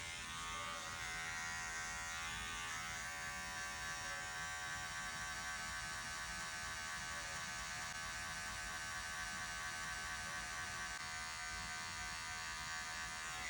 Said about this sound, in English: with a clipper, any blade, outliner or a blade like a trimmer or a clipper like this, there's always gonna be one corner that cuts sharper